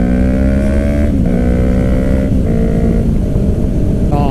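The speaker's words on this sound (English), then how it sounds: "You know what we do, we drop a gear. I'm only dropping one gear" Kawasaki Ninja 300 sport bike revs hard after a downshift, loud close engine with rising pitch sweeps broken by quick gear changes.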